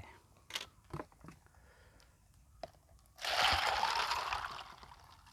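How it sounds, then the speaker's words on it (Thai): Water is poured into a container holding leftover ice, a loud, steady splashing rush that starts suddenly partway through and runs to the end after a few soft handling knocks. "มาเทน้ำใส่"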